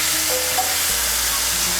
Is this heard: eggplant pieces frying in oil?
yes